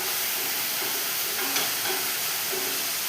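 Fish simmering with chili in a frying pan, stirred with a soft broadband sizzle and light scraping, steady and close, with a few faint clinks.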